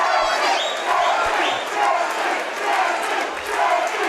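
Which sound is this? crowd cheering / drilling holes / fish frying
crowd cheering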